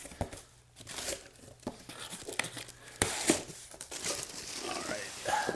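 Packaging around a Kramer Lzzy Hale Black Diamond Voyager electric guitar is cut open up close, with crinkling, tearing and scraping bursts in uneven spurts and a sharp rip near the middle, faint and nearby.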